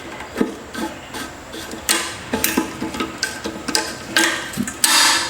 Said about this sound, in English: I'll take vice grips and just clamp them to the